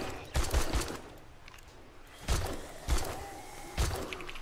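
Bursts of gunfire in the zombie survival game 7 Days to Die, several sharp shots in separate clusters with pauses between, loud and close over quiet ambience.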